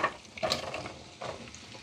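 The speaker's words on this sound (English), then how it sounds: "We're going to saute that." Mushrooms sauté in butter with a soft, steady sizzle, broken by a few sharp clinks and scrapes from stirring in the pan. No one speaks.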